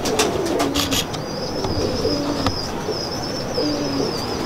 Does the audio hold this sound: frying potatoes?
no